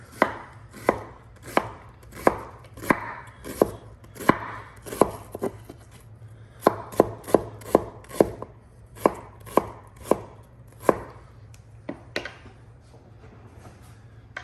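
A knife chops through an onion on a cutting board in a series of sharp, close knocks with an uneven rhythm and short pauses, no talking.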